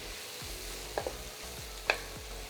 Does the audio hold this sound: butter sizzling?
yes